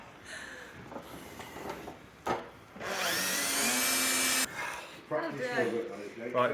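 A power drill bores a hole into the metal body of a van being fitted out for pressure washing, a steady, whining run of a couple of seconds, with nearby voices talking before and after.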